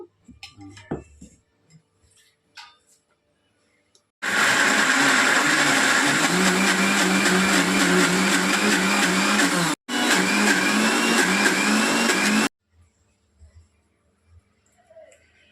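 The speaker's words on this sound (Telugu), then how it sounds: "అల్లం ముక్క చిన్న పచ్చిమిరపకాయలు పచ్చిమిరపకాయలు వేసి రుబ్బేస్తాను" A mixer grinder grinds ginger and green chillies in a loud, steady whir that runs for about eight seconds with one brief pause, framed by quiet clinks before and after.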